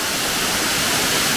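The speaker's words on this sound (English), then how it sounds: "how it looks, how beautiful this waterfall is." Waterfall in the fog-bound Fagaras Mountains, a loud, steady wash of rushing water that fills the whole stretch, heard up close with no talking.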